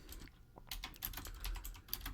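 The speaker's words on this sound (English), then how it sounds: "we're going to type in Tommy Boy" Quick, uneven clatter of keystrokes on a computer keyboard, a short burst of typing heard up close with no talking.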